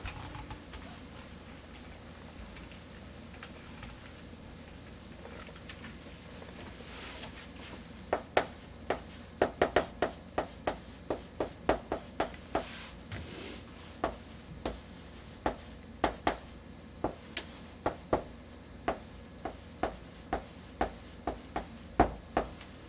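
A pen writes a sentence on paper in a quiet room, at first faint and smooth, then with a run of sharp, close taps and scratches as strokes and dots land unevenly.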